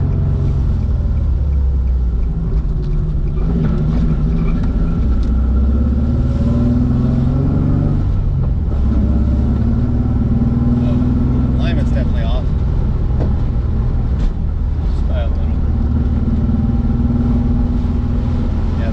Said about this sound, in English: Still got an exhaust leak.